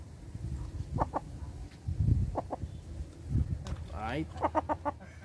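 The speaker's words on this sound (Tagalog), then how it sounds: "At ito naman yung isang nabili natin mga ka-farmers na puti na asil." White Aseel chickens on a farm give short, scattered clucks and a rising squawk, fairly close, mixed in with someone talking nearby.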